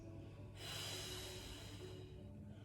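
Someone exhales in one long, steady, breathy push during a Pilates breathing exercise on a mat. The breath is close, soft and lasts about two seconds.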